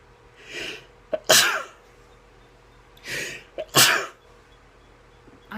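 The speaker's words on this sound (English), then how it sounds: "I'm going to sneeze crazy." Two sneezes, each preceded by a sharp inhaled breath, spaced about three seconds apart, close and loud.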